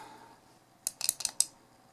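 Button clicks on a Joyetech Cuboid vape mod: a quick run of sharp, crisp plastic clicks close up, set against a quiet background.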